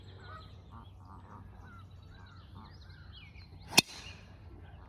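Geese honk repeatedly at a distance across a golf course during a two-versus-two alternate shot match, faint against a low ambient hum. A sharp club strike cracks out near the end.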